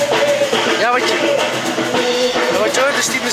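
Tinny fairground music plays from the Piranha square attraction at Efteling on a rainy day, a steady tune with gliding melodic lines that continues throughout, heard outdoors amid a constant busy background wash.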